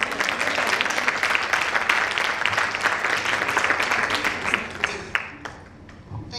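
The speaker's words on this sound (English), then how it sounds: "Another round of applause" A large audience applauds at a live event, dense sustained clapping that holds loud and even for several seconds before thinning out and fading near the end.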